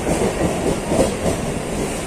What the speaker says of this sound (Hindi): आ चुके हैं विरार रेलवे स्टेशन